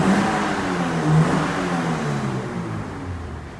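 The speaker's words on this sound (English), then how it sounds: "clip of me revving my car inside my work" A Scion FR-S engine revs indoors in a work garage, one loud rising rev that holds briefly and then eases off with a slight echo from the enclosed space.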